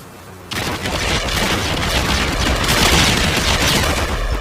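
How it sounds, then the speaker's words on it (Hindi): A sudden heavy blast erupts in GTA V after a brief quiet moment, then a loud, dense roar of rumbling debris and crackling keeps going without letting up. "बहुत ही खतरनाक धमाका"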